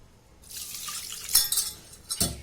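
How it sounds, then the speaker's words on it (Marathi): Pigeon peas (toor dal) are rinsed in water inside a pressure cooker pot, with a short burst of splashing and swishing followed by a louder slosh and clink near the end, close by and alone. "हे अर्धी वाटी तुरी जरा कुकरमध्ये टाकली आपण आता स्वच्छ धुवून घेऊ"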